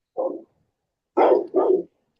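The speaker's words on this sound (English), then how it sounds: "this fucking dog." A dog gives three sharp, close barks: one single bark, then a pause of about a second, then two quick barks in a row, with silence around them.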